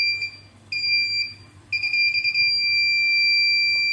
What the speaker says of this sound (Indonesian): Terus pada saat buzzer mulai berbunyi seperti ini, jaraknya berada di bawah 6 cm.